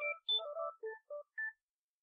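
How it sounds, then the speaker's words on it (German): A phone ringing with a short electronic melody of several quick, clean tones, faint and heard alone, then silence. "Und jetzt klingelt mein Telefon"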